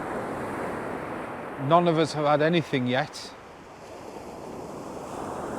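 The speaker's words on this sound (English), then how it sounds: "The sea is very rough" Rough sea on the East Coast makes a steady, broad wash of surf and wind noise throughout, with someone briefly speaking over it midway.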